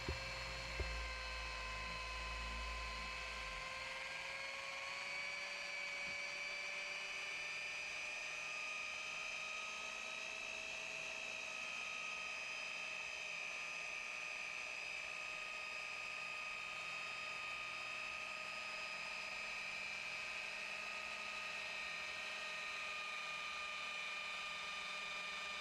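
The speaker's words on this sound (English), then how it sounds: "to work your polisher with the compound in between 1000 and 1500 RPM" A car paint polisher running with cutting compound at 1000 to 1500 RPM, used to remove major paint imperfections, whines in a steady layered tone that holds for the whole stretch, close and continuous with a thump at the start.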